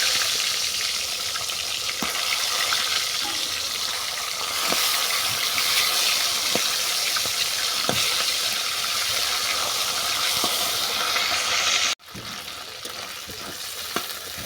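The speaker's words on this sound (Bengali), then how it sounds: "মাছের মাথাটাকে এই তেলের মধ্যে আমি ভেঙে দেবো, ঝিরো ঝিরো করে দেবো, যাতে ভেতর পর্যন্ত ভালো করে ভাজা হয়।" A rohu fish head fries in hot oil while being broken into small pieces, giving a constant loud sizzle with scattered clicks and scrapes of stirring and a brief drop near the end.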